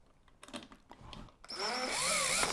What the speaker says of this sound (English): Enlist the services of the drill again.